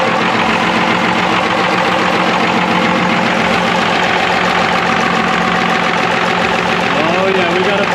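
A heavy truck engine with a leak runs loudly and continuously, its steady droning idle dominating throughout with a voice briefly audible underneath near the end.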